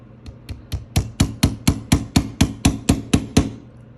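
A small hammer taps a knurled pin into a Rolex Jubilee bracelet, about fifteen quick, evenly spaced sharp metallic strikes, close and loud, starting faint and growing firmer.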